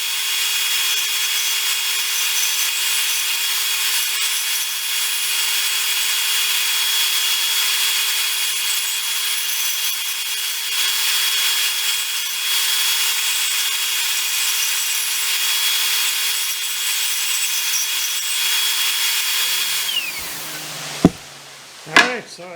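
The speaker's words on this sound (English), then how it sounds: "My bandsaw needs a bit of adjusting there, but anyways, I got through the cut" A bandsaw cuts through wood to make a zero clearance insert for a Ridgid R4520, whining and rasping steadily for about twenty seconds. The blade then spins down, and a few sharp knocks follow as the cut finishes.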